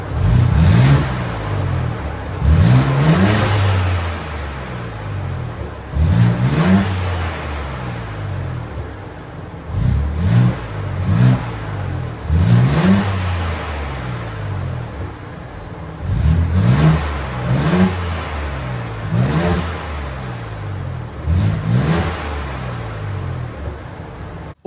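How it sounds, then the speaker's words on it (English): Ford Bronco Raptor engine fitted with a CPE downpipe and intercooler, blipped repeatedly at idle; a series of sharp, loud revs rising and falling, close by. "let's just start it up right here, give it a couple revs"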